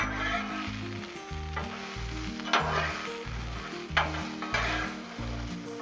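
A breakfast scramble seasoned with salt and pepper being stirred on a Blackstone griddle: a loud continuous sizzle with repeated spatula scrapes and clanks against the flat metal surface, no talking.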